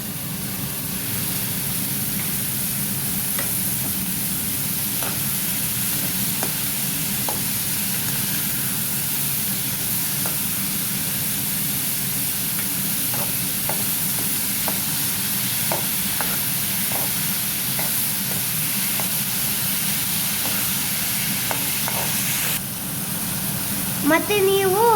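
Onion frying in oil in a pan for a raw mango curry, a steady broadband sizzle with scattered soft pops and stirring clicks, continuous and close throughout.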